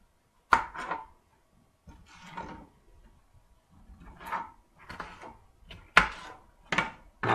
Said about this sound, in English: chop my pepper up